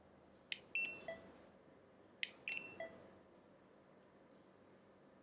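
A barcode scanner beeps while products are scanned in a quiet room, two pairs of short, faint, high electronic beeps about two seconds apart.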